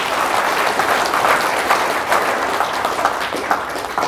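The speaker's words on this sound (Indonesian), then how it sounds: "Tepuk tangan untuk Indonesia" An audience at an Indonesian religious talk bursts into sustained, dense applause, loud and close, a continuous roar of many hands clapping with no voices over it.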